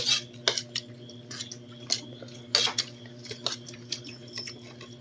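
Cutlery scraping and clinking against a dish while food is mixed, a run of sharp irregular metallic ticks and scrapes over a steady low background hum, close and clear.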